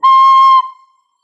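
A single clear, high flute note, a high D, held for about half a second, then fading quickly into silence.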